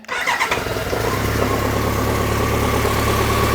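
A BMW K100RS 16V motorcycle engine catches and settles into a loud, close, steady fast idle with a slightly rough, uneven throb.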